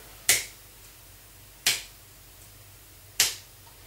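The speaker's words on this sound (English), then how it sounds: "I can just control my presentation, move forward, just using my finger snap." Three crisp, isolated finger snaps spaced about a second and a half apart, each sharp and close, used as gestures to control a presentation via an Android kinetic remote, with quiet room tone between.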